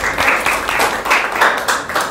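Indonesian eighth-grade students clapping together in a classroom: a short, loud burst of dense, rhythmic group applause with no talk.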